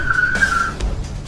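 A cartoon vehicle brakes to a halt, its tires letting out a short high-pitched squeal for under a second over low engine rumble, followed by a few faint knocks.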